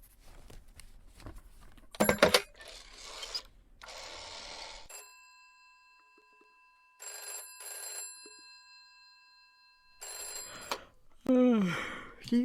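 A telephone rings in bursts during a phone call in the police-management game This Is The Police, the electronic ring tones separated by pauses and mixed with other clicks and sounds.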